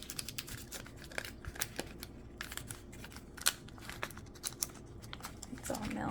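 Chocolate, soft and melty from sitting out and cut in half, being unwrapped from its wrapper up close: a run of crisp, crinkly rustles and small scratchy clicks, with a soft voice briefly present.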